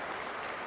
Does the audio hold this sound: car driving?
no